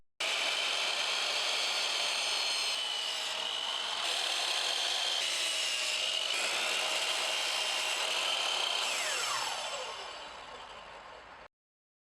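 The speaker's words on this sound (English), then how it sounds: "So using a miter saw, I cut 4 pieces of pine 16 inches in length" Power miter saw cutting pine boards, a loud, continuous high-pitched whine with the blade biting through wood for about ten seconds, then spinning down as it fades out.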